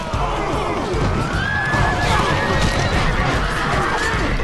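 Horses whinny, neigh and die repeatedly amid a dense, loud battle din of clashing and crowd noise in a video game battle of Persians versus Macedonians, continuous and chaotic.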